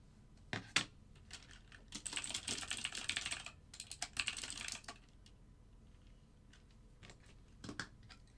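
Fast typing on a computer keyboard, close and clear, with dense bursts of rapid key clicks separated by brief pauses and a few louder isolated keystrokes, with no voices.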